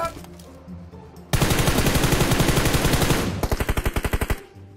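Automatic gunfire in the PUBG video game rattles out in a long, loud, rapid burst, then a shorter burst of distinct shots, with a player's voice briefly audible at the start.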